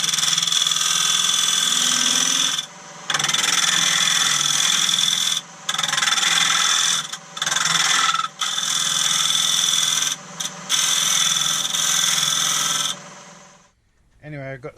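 An elm bowl spins on a woodturning lathe while a tool cuts detail into its outside, giving loud, sustained scraping and whirring bursts broken by several brief pauses. It falls silent near the end.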